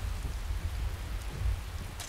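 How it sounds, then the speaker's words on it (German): Thunder and steady rain in Skyrim Special Edition, with a deep bass rumble rolling under a constant hiss of rainfall that stays close and fairly loud. "Donner hört sich gerade richtig geil an."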